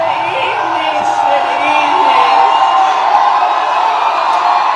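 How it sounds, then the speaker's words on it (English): A large rally crowd for Kamala Harris in Las Vegas, Nevada, cheers and roars in a steady, loud wash of voices that holds throughout without pause. "Listen to the enthusiasm in the crowd"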